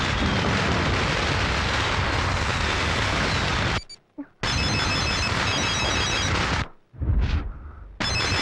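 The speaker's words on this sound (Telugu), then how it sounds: "రింగ్ అవుతుంది." A telephone rings in the middle of a loud, dense roar of background noise, then the roar breaks off and the shrill repeating ring continues with brief pauses.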